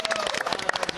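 A studio audience on a morning TV show applauds a magician, with brisk, fairly loud clapping filling the short moment.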